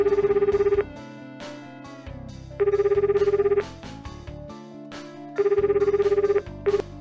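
A synthesized phone ringtone from Shin Megami Tensei Devil Survivor Overclocked plays in three loud, bright bursts of repeating tones, separated by game music.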